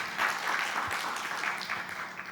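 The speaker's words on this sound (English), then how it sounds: "If you can just give them applause, that'll be great." Attendees at a climate and biodiversity conference session give the facilitators a round of applause, a soft, distant, steady patter of many hands without speech.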